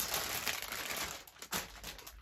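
Crinkling and rustling plastic packaging as a white Ariel rainbow sequin Loungefly backpack is unwrapped. The sound is close, continuous and fairly faint, with a brief lull partway through.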